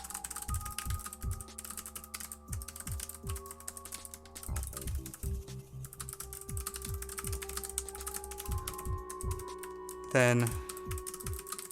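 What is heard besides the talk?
typing on a computer keyboard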